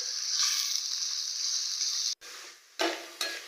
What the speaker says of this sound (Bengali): তেলের মধ্যে পেঁয়াজগুলো দিয়ে দিয়েছি, এবার পেঁয়াজগুলো ভেজে পেঁয়াজের বেরেস্তা করে নেব।